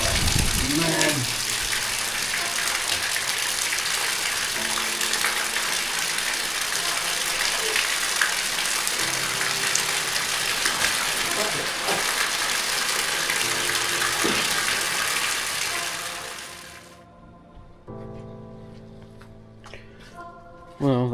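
A steady, dense roar of heavy rain pours down continuously for most of the clip, then cuts out abruptly, leaving quieter ambient sounds.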